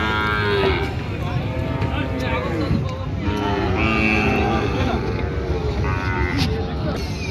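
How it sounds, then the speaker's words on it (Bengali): Cattle low repeatedly at a busy outdoor cattle market where an original Gir breed bull calf is shown, the moos sounding close and loud over constant crowd chatter and engine noise. "অরিজিনাল গির জাতের একটা ষাঁড় বাচ্চা"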